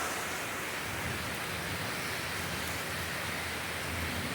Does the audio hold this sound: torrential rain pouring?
yes